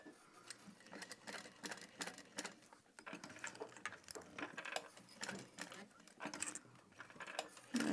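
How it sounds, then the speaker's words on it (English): A sewing machine stitches nylon webbing straps onto a small handmade bag, running in short rhythmic bursts of mechanical clatter with brief pauses between, fairly quiet and close with no talking. "I'm going to sew these on"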